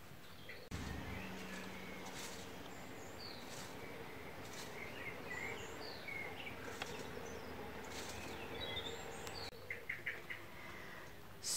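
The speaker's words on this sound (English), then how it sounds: "can probably hear the birds outside." Birds chirping and calling outside open doors on a sunny day, a busy chorus of tweets and short calls over a low hum of insects, heard indoors at a moderate distance with no talking.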